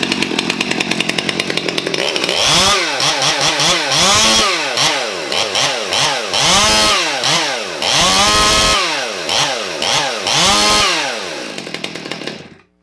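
A custom-built chainsaw, an Echo CS-2511T or MS 200T, revs loudly in repeated rising and falling bursts after starting, then cuts off abruptly.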